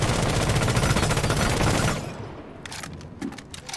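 R4C assault rifle in Rainbow Six Siege fired in a sustained, loud full-auto stream for about two seconds, then a few scattered single shots over fading echo.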